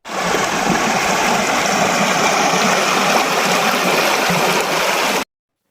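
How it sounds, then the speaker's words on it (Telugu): Water rushing steadily along a small outdoor stream, a dense continuous broadband wash of flow with no voices, holding at an even loudness until it cuts off abruptly. "నీళ్ళు వెళ్తున్నాయి."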